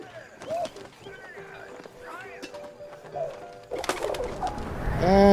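A pigeon coos and flaps away in the video game 11-11 Memories Retold, soft throaty calls and a burst of wing beats at the end, heard under talking.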